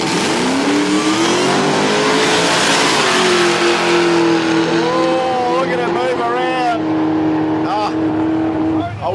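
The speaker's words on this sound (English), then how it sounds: "Tony, the fat 60, blown and injected. That's a whole lot of car." A blown, fuel-injected drag racing car revs hard at a drag strip, its engine screaming loud and close, pitch climbing and holding before dropping away near the end, with a commentator talking over it.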